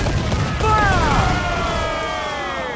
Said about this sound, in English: Fire! Down they go! Fire! We'll give a good broadside!